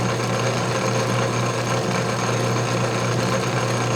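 An antique model metal shaper takes a roughing cut with a fairly coarse feed, a steady loud mechanical drone with dense clatter continuing throughout, no voices over it.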